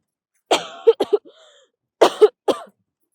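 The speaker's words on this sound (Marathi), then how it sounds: "साधा खोकला आहे" A woman coughs in a few sharp bursts, then again after a short pause, close and fairly loud with a brief throat-clearing rasp between, in a quiet indoor setting.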